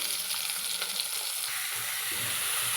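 Ridge gourd goes into a hot pan of onion and green chili tempering, giving a loud, continuous sizzle up close with faint stirring sounds.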